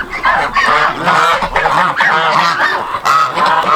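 Muscovy ducks and Orloff chickens gathered around a squash plant, with loud close honking and raspy calls in repeated overlapping bursts and no speech.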